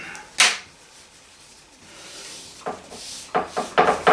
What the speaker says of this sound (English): Scrape off my little color on my palette.